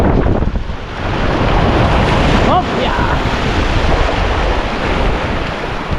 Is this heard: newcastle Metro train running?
no